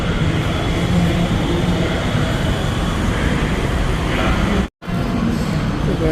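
Steady, loud rumble of a metro train in motion, heard from inside a carriage during a night ride, continuous with a brief dropout near the end.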